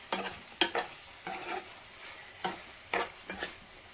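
Liver fry being stirred in a pan, a spoon scraping in six distinct bursts over a soft sizzle, moderately close with quiet gaps between strokes.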